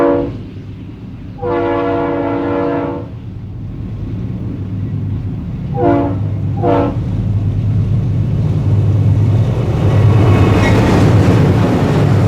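A Santa Fe intermodal freight train rumbles past on Cajon Pass, loud and close, its horn sounding in long blasts and short bursts over the steady roar of rolling cars.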